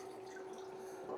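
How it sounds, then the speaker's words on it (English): Water pours and drips steadily out of opened cans of Italian cut green beans as they drain, a close, continuous trickle with a faint hum beneath. "Now we want to drain these green beans. Get that water out of there"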